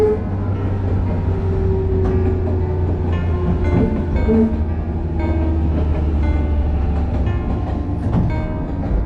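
A twelve-car JNR 415 series electric train pulling into Kashii station on the Kagoshima Main Line, a loud continuous rumble with brake squeals and clanks as it slows.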